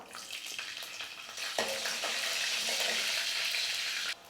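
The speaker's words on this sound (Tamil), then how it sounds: "கடுகெல்லாம் நல்லா பொறிஞ்சி மிளகாலாம் நல்லா வறுப்பட்டுடுச்சு" Mustard seeds and chilies crackle and fry in hot oil, a close, dense, continuous sizzle with sharp spluttering pops throughout, cutting off abruptly near the end.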